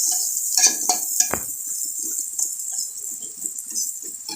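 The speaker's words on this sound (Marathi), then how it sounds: "आता हे चांगलं परतवून मिक्स करून घ्यायचं आहे" Red chutney and chili powder are stirred and sautéed in a pan, with a spoon clinking and scraping against the metal in irregular taps over a faint background hiss, and one louder knock early on.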